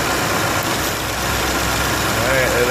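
A 2019 Ford F-150 with a 5.0 engine idles steadily up close with a cylinder misfire, giving a rough, uneven running note that continues throughout with no break.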